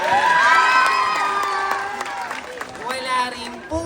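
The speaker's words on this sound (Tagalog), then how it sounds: "wala po bang palakpakan dyan?" Audience at a national costume pageant clapping, cheering and shouting, lively crowd noise with high whoops and excited voices that rises early and then eases off.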